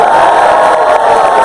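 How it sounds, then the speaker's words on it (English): A large auditorium audience at a university engineering keynote cheers and whoops loudly on cue, a dense, sustained roar of many voices with no pause. "Let's cheer out really loud and say how much fun you're having in here"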